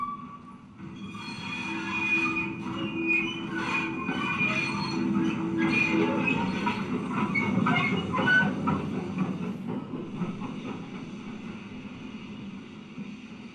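A train at a station rumbles steadily with clanking and some squealing of wheels in the background, a continuous moderate wash of railway noise.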